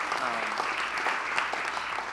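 Applause from an audience at a Rotary Club meeting, a steady patter of clapping filling the short stretch at moderate level, with no clear talk over it.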